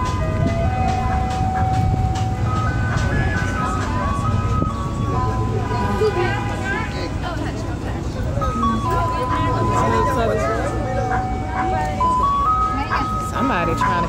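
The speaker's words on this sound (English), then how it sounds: "There's an ice cream truck." Ice cream truck on a city street in Washington, DC, playing its looping jingle melody at moderate loudness amid passing traffic and background chatter.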